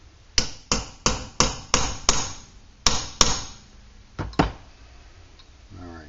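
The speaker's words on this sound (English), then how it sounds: "you just kind of tap these down easy" A hammer tapping rivets into a leather saddle for an antique high-wheel penny-farthing bicycle, a run of about a dozen sharp, evenly spaced knocks with brief pauses, close and distinct, no talking.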